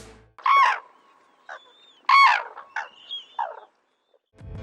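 Loud bugling calls from a crane, given in short paired bursts with quieter answering notes between them, close and clear against a silent background.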